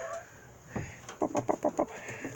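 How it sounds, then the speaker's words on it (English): Young chicken at an allotment giving a run of about five short clucks in quick succession, close by, with quieter single clucks before and after over faint outdoor background. "This is Shirley, the most beautiful chicken in the world."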